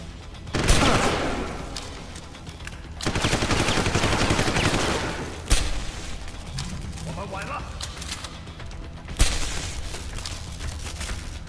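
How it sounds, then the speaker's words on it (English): A heavy gun fires in Deus Ex Human Revolution in several loud sustained bursts with sharp booming onsets, separated by quieter gaps of game ambience and some talking. "Oh my god, he's got a heavy gun."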